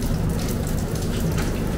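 Steady rain pours down outdoors at a training camp in Florida, a dense, even hiss of countless drops at moderate loudness that never lets up, with no voices.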